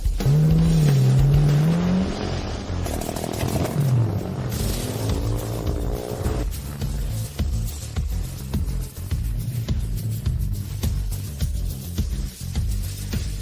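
A racing car engine revs and whines as it arrives, rising and falling pitch sweeps over a rumbling motor, loud at first and then settling into a steadier mechanical drone.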